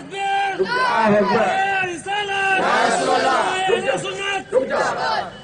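A crowd at a religious gathering chants slogans in loud, harmonised call-and-response bursts, many voices rising together in pitched shouts, then pausing and surging again at close range.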